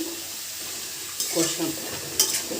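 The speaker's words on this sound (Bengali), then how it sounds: "আলু ডাটাটাকেও ভালো করে কষিয়ে নেবেন।" Vegetable stalks and potatoes fried in spiced oil in a pan, with a steady soft sizzle broken by a few louder scraping stirs near the end.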